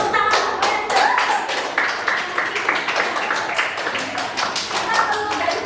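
A group of people at an Indonesian school claps their hands together in a quick, steady, closely spaced rhythm that stays loud throughout, with voices faintly mixed in.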